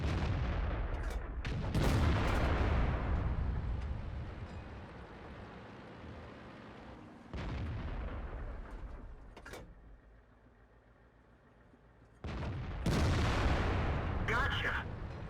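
Heavy tank cannon shots boom in World of Tanks, with several loud blasts separated by mechanical rumble and quieter stretches, alongside someone talking.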